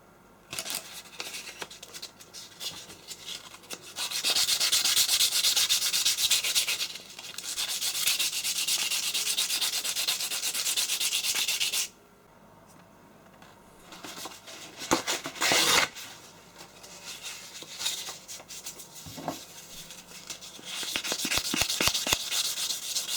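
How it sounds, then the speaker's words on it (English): A scrap metal part salvaged from a jet washer is being polished, giving loud sustained abrasive rubbing in long bursts, broken by a brief quieter pause and then rougher intermittent grinding. "polish it up."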